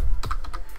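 A web address is typed on a computer keyboard into a browser window: a handful of quick, close keystroke clicks in under a second, with no talking.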